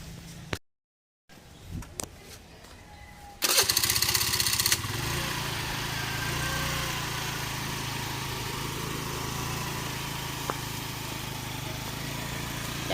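A motorcycle engine starts after a few clicks and knocks, then runs at a steady idle, a constant mid-loud putter with a brief rev early on.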